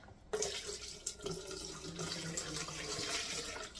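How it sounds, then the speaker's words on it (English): Chicken broth poured into a jar for home canning of mac and cheese, a soft continuous liquid trickle and fill sound, faint and close, with no talk. "I want to fill this up with chicken broth"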